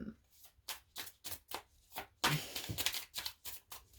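Tarot cards are shuffled by hand for a reading, a quick series of crisp riffling bursts in an irregular rhythm, close and clear, with a voice speaking in between.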